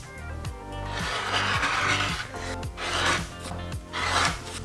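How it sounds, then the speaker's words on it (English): Cutting quilt fabric squares diagonally, heard as rhythmic rasping strokes of a blade through fabric on a cutting surface, close and fairly soft, with no talking. "we will carefully cut diagonally into 4 smaller squares."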